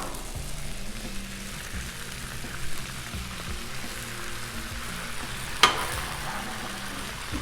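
Eight eggs sizzle and fry on a hot Blackstone griddle, a steady crackling hiss with a few soft scrapes and one sharp metallic clink near the end, no voices.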